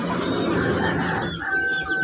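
A lame chicken that can barely stand clucks nearby in a quick run of throaty calls, loud and clear with no voices over it.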